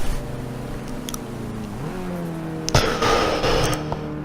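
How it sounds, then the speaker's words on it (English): A race car pulls away from a rolling start at Sonoma on a high-boost setup with lots of wheel spin: a steady engine note climbs in pitch, then a loud, close burst of acceleration follows, with no talk. "Sonoma rolling start, high boost setup, lots of wheel spin again, but no wheel spin in second"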